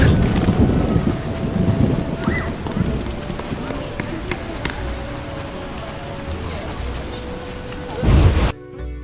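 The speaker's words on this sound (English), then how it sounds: "A real downpour." Heavy rain pours and thunder rumbles during a storm in The Witcher video game, a dense, steady hiss with low rolling booms beneath it that cuts off abruptly near the end.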